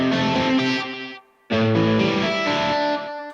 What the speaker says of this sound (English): You have echo mode, which is your basic slapback delay.